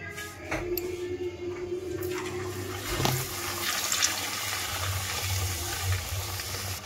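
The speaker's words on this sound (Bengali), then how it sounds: "এবার চলো একটা একটা করে ভেজে নিই।" Luchi frying one at a time in hot white oil: a continuous, fairly loud bubbling hiss with wet crackle, holding steady throughout with no talk.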